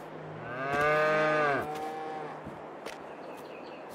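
A Holstein-Friesian cow in the Farming Simulator 22 video game gives one long, loud moo, followed by quieter clicks and game sounds.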